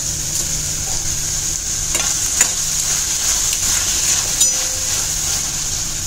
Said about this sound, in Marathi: हे छान तेल सुटेपर्यंत आपल्याला परतून घ्यायचं आहे